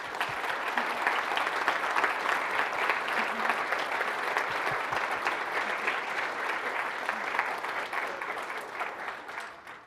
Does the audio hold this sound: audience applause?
yes